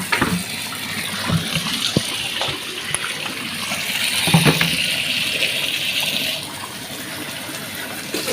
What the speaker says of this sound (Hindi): और अब इसमें भरूंगी पीने का पानी डायरेक्ट मोटर से